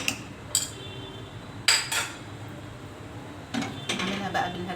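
Sweet potatoes with whipped cream being mashed with a potato masher in a pan: a few separate soft clanks and scraping thuds at irregular intervals, close by, with no talk.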